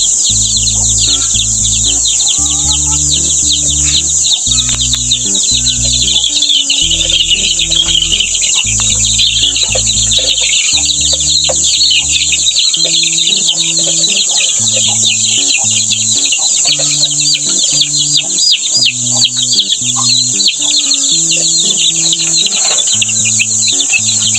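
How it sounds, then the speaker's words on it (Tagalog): Chicks peep in a loud, dense, continuous chorus while being caught and counted for transfer, with clucking chickens and steady insect chirring underneath and no voices. "Habang hinuhuli ko pa yung mga sisiw, ay binibilang ko na rin po sila sa kasabay na pagkakataon."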